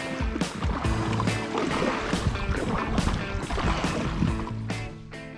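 A kayak is paddled hard through the water on the Delta, with rhythmic splashing strokes repeating about every half second, close and fairly loud.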